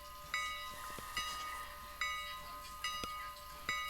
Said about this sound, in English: The puffing of steam as it starts rolling forward.